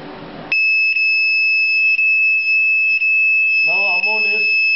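A prepaid electricity meter sounds a continuous low-balance alarm, a loud steady electronic tone with rhythmic pulses about once a second, as a voice speaks briefly over it near the end.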